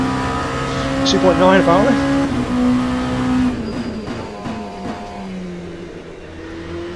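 An LMP2 prototype race car engine in the Le Mans Ultimate racing game at Bahrain, droning and shifting pitch with a rising whine, while someone talks over it.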